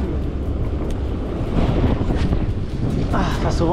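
Strong wind blasts across a fishing boat at sea, a loud, continuous roar and rumble pressing on the microphone, with someone speaking briefly over it.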